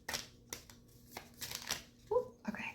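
A tarot deck being shuffled by hand, quiet irregular riffling and card slaps in short bursts, close up, with faint voice sounds between.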